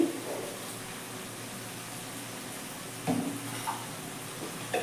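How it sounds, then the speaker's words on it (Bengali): Spice paste (masala) for a chicken and potato curry sizzles steadily in a pan as it is fried and stirred, with a brief scrape of the spoon partway through. "মশলাটাকে ভালো করে কষিয়ে নেব মশলাটা আমার প্রায় কষে গেছে"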